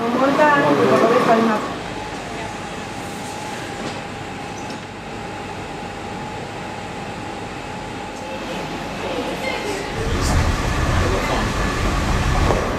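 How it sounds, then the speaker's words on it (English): An airport rail shuttle train (Skyrail) linking the airport to the railway station at the NEC hums and rumbles steadily with a sustained tone, louder at the start and end, with some talking near the beginning. "The Skyrail connects the airport to the railway every 90 seconds"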